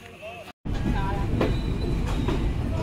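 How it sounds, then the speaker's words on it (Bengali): The intercity Kapotaksha Express rolls into Azimnagar railway station with a loud, steady rumble of wheels on rails and faint squeal, heard close up after a brief dropout. "আন্তনগর কপোতাক্ষ এক্সপ্রেস 3টা 18 মিনিটে প্রবেশ করছে তার প্রথম যাত্রাবিরতি স্টেশন আজিমনগর রেলওয়ে স্টেশনে।"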